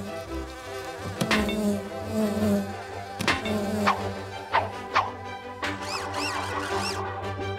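Mechanical cartoon bees in an animated children's show buzz with a bright, wavering drone, rising and falling in pitch as they fly about, punctuated by a few sharp clanking hits and swooping whines.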